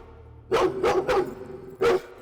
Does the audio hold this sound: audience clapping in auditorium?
no